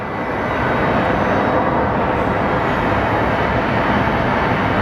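An airliner landing on runway 26 at Phoenix Sky Harbor Airport, a steady broadband jet roar that holds fairly constant throughout, with no talking.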